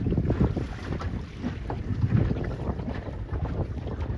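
Steady wind buffets the microphone aboard a C420 dinghy racing at a regatta, a dense low rumble with gusty swells and faint water noise, loud and close, with no one speaking.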